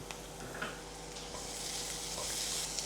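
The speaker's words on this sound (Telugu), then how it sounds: "మళ్ళీ వేయిస్తున్నా" Raw banana pieces and onion frying in a little oil with salt, giving a steady broadband sizzle with occasional stirring clinks, close and moderately loud, no talk.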